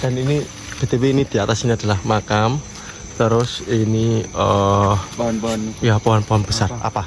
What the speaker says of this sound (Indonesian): Itu bunyi kodok.